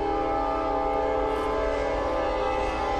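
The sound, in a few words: passing train with horn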